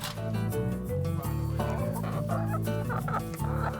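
A flock of chickens clucking and squawking nonstop, loud and close, with overlapping calls and a busy, chattering rhythm.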